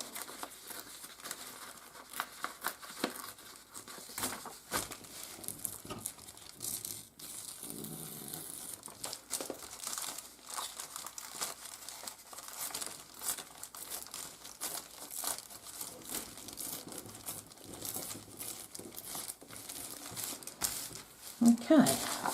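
Paper is torn and crumpled by hand while making a faux vintage binder: quiet, irregular crinkles and rips in scattered bursts, with a voice talking now and then.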